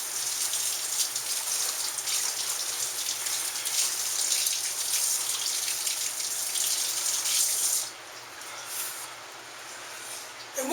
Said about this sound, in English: Go and rinse a few shrooms off.